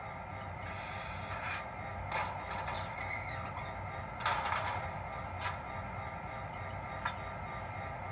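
Locomotive shutters in a video game open and close with mechanical clunks and ratcheting clicks over a constant low engine hum, with several sharp metallic movements spaced irregularly.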